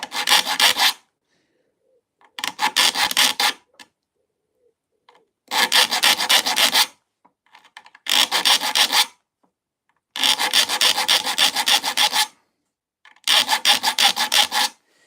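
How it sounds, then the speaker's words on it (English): A saw blade being sharpened with a file: six loud, rasping bursts of one to two seconds each, separated by short pauses, with no talking. "this is my first ever time sharpening a saw blade"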